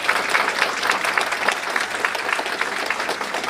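A university recognition ceremony audience on the San Francisco State campus breaks into sustained applause, a dense wash of clapping from many hands filling the room without a break.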